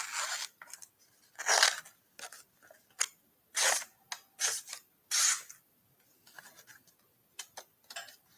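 A super sharp knife slicing through thin phone-book paper, giving short crisp rasping cuts in irregular bursts with pauses between, close and fairly quiet.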